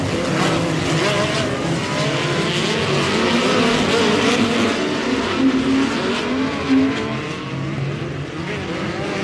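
Midget race cars in a POWRi West Midget League B feature at Airport Raceway growl and rev together in a steady, loud, dense engine roar, with pitch wavering as the pack circles the dirt oval.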